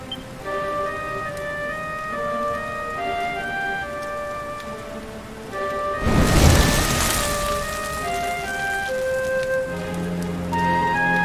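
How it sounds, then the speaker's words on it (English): Steady rain falls in the video game Dragon Quest XI beneath soft sustained music, swelling into a louder rushing wash partway through before easing back. "Looks like the rain's dying down."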